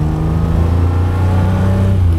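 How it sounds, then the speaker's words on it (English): Vintage Ferrari 250 GT Lusso engine humming at steady cruise, a deep, even drone heard from inside or close by while driving, with no talking. "There's nothing cooler than driving an old Ferrari like this"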